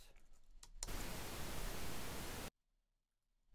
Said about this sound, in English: and pink noise on the right